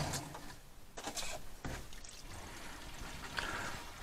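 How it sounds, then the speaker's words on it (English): Water from a watering drains through pepper plant containers in a greenhouse into small catch pans below, a soft steady trickle and pour with brief splashy bursts, fairly faint and close, no talking. "a lot of the water is going straight through the container, straight down into the little catch pans I got down here"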